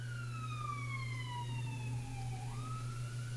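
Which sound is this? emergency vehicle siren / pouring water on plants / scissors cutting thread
emergency vehicle siren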